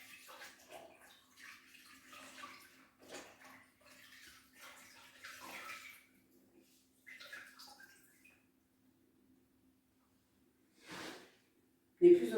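A reusable cloth makeup-remover wipe is rinsed under a running tap. Soft, intermittent splashing and trickling come in short bursts near the basin, with a brief louder splash at the end.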